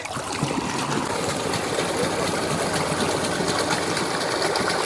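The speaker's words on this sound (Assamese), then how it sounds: "ৰাতুলে এতিয়া বাইকখন চলাব" An amphibious motorbike starting and riding through flood water, with a loud, continuous engine drone mixed with rushing, churning water, close and steady throughout.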